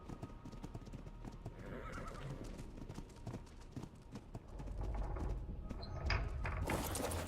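Horses in a medieval roleplay video game clip-clop steadily and give a neigh near the end, the hoofbeats continuous and fairly close with game ambience underneath.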